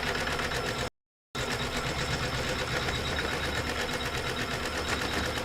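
A quilting machine stitches a quilt with a steady, close, continuous mechanical whir and rapid needle chatter. The sound cuts out briefly near the start, then runs on evenly with no talking.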